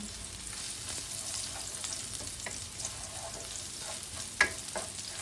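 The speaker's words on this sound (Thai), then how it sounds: "กะเทียมลงไปนะจ๊ะ ใส่กระเทียมเยอะ ๆ จะได้หอมหอม" Garlic frying in a pan for Thai stir-fried water mimosa, a soft steady sizzle with a few light stirring clicks and one sharper clatter near the end, no talk.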